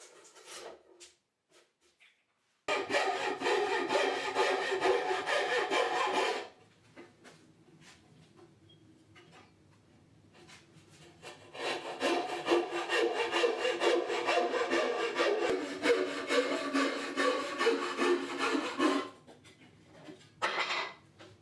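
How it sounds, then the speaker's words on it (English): Two long bouts of steady turning-saw cutting through plywood, a few seconds each, with a pause between and a brief final stroke at the end. "thread the turning saw blade through and cut out the interior part"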